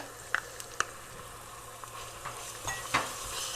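Ginger garlic paste fries quietly in a pan for chana chaat, a faint low sizzle broken by a few sharp clicks and scrapes of a spoon, with no talking.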